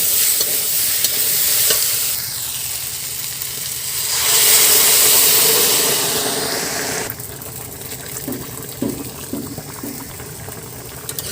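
Water is poured onto sautéed raw jackfruit and fried prawns in a hot pan, setting off a loud rushing hiss that swells and fades, followed by softer bubbling and a few scraping stirs.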